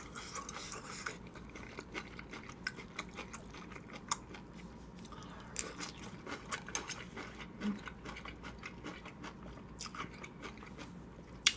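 Someone eats stir-fried beef intestines with rice, giving close, steady wet chewing and crunchy bites in an irregular rhythm with no talking.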